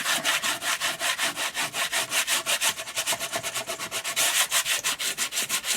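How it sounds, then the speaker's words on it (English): A wooden display box has its coating rubbed off by hand in fast, rhythmic back-and-forth strokes, close and loud, with about five scrapes per second continuing without a break. "So I just want to rub a little of that off so that there's going to be something there that the glue will"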